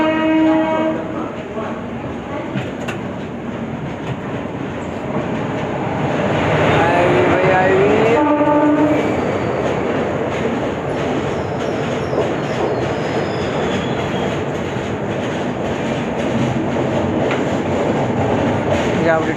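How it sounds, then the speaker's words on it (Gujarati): The Mahua Express pulling out of Surat station: a loud, continuous rolling rumble of wagons with a brief squeal of wheels and horn-like tones partway through. "આપણી ટ્રેન છે સુરતથી ડિપાર્ટ કરે છે"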